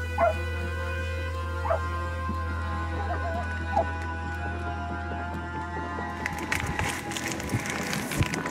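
Muffled, distant barks and yips from a dog underground sound a few times over a steady low hum, followed by scraping and shuffling noises.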